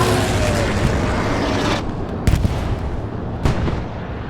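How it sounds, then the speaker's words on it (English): Artillery fire in a World War II multiplayer video game, a dense rumbling barrage with a sharp blast near two and a half seconds and another near three and a half, loud and continuous throughout. "Artillery is cooking."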